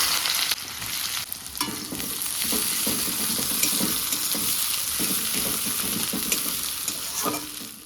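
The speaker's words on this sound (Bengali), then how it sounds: "পেঁয়াজটা লাল লাল করে ভাজা হয়ে গেছে" Chopped onions hiss and crackle in a hot pan as they fry to reddish-brown while a utensil scrapes and stirs them in irregular strokes, close and continuous.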